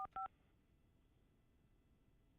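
Two short telephone keypad tones beep in quick succession at the start, close and clear, then fade into faint hiss with no talk.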